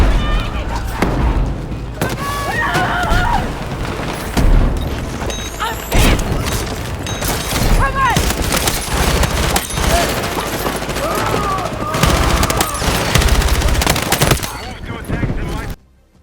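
Battlefield 6 tank combat erupts in nonstop machine-gun fire, rapid gunshot bursts and heavy booming explosions, dense and loud throughout, with a voice talking over the battle at times before it cuts off abruptly.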